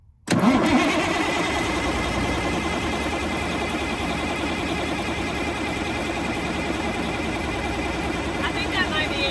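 A 1984 Peterbilt 359 diesel truck engine cranks and fires almost at once, then settles into a loud, steady, close rumble that holds for several seconds.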